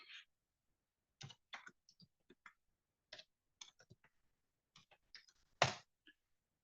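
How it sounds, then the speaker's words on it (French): Scattered keystrokes on an unfamiliar computer keyboard, irregular clicks and taps arriving in short uneven bursts with pauses between, close and fairly quiet with no talking. "Je suis sur un clavier qui n'est pas le mien d'habitude."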